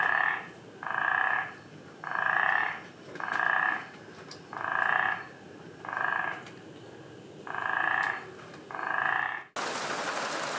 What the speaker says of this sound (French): quelle chance d'entendre les crapauds gutturaux en pleine